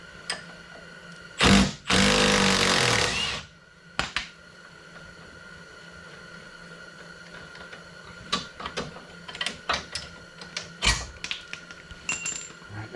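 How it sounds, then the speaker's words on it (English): An impact wrench hammers at a car's control arm end link bolts in one loud burst of about two seconds, followed by scattered metallic clicks and clanks of tools and parts nearby. "Lucky me, I got an impact. So I'm just going to hit that with the impact."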